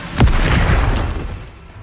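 Confringo blasting spell going off in Hogwarts Legacy: a single loud, close boom with a heavy low-end punch that rolls on and fades over about two seconds, no voices over it.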